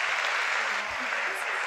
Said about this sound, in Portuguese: Vamos receber com uma salva de palmas Lívia Azevedo e Juliana Sawaia.